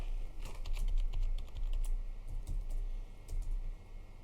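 Rapid clicking keystrokes on a computer keyboard as a search is typed into an in-game inventory, fairly close and quiet, with no voices.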